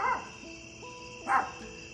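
A dog gives two short barks, one at the start and another about a second later, moderately close, with a quiet steady hum in the background.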